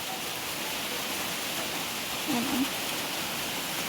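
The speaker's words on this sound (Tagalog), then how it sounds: "umuulan po dito sa amin guys" Steady rain falling in a rural province, a constant hiss of drops under a brief spoken word.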